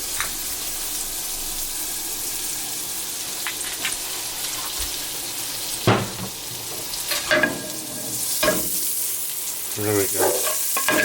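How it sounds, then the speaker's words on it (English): Butter and olive oil sizzle steadily in a skillet while a utensil stirs and scrapes through them, with a few louder clinks and scrapes near the end; a brief spoken remark passes over the frying. "take some more butter, add that to the skillet, move that around"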